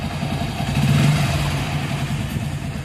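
A motorcycle engine runs and swells briefly as it is revved after a mileage adjustment, a close, steady mid-pitched engine drone with a mild rise in loudness, no speech over it.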